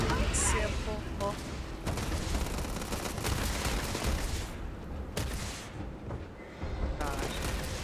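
Sustained gunfire from the space game Starfield in a New Game Plus run, dense bursts of shots and booms running throughout at steady loudness, with a person talking over parts of it.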